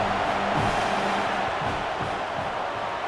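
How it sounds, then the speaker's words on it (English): Stadium crowd noise in the College Football 27 video game as the field goal unit lines up: a steady, loud roar of many voices with no clear peaks, holding constant throughout. "This crowd trying to do its part to get inside the kicker's head."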